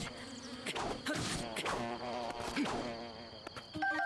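Bees buzzing in The Legend of Zelda: Breath of the Wild, a continuous swarming drone with rising and falling pitch, layered with game effects and a brief chime near the end.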